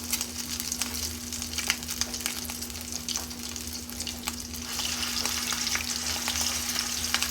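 Tuna patties fry in hot oil in a preheated pan over low heat, giving a continuous, dense sizzle that grows slightly louder and crackles with small pops.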